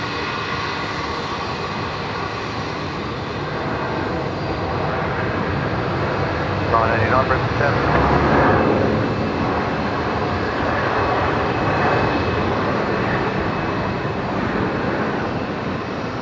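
Airplane on the runway at Brisbane Airport at night, heard as a steady, broad engine roar that swells slightly in the middle, loud and constant.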